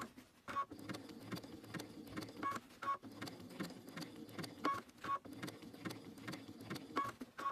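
A sewing machine stitches fabric for machine reverse appliqué, running in short repeated bursts with pauses between them and small beeps at each stop, fairly quiet and with no speech.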